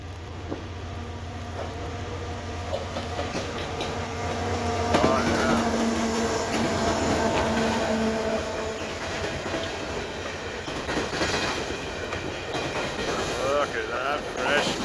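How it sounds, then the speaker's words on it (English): An empty coal train rolls past by a river, a long continuous rumble with rhythmic clickety-clack from the wheels and faint squeals, building slightly midway. Voices can be heard talking underneath. "This is a coal train."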